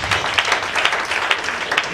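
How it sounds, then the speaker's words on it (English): An audience at a prophetic church service claps together in a steady burst of applause, fairly close and sustained for a couple of seconds. "Clap for Jesus."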